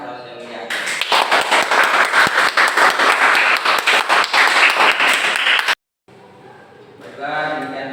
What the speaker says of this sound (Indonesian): Berikan aplaus yang meriah.